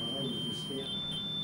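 A high, steady electronic beeping, like a smoke alarm, sounds continuously with a brief dip, under people talking in a supposedly haunted house.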